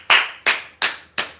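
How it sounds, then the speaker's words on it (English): Four sharp hand claps ring out close by at an even, brisk pace, each crisp and loud with a short decay and no voices. "I just want to give you a big round of applause."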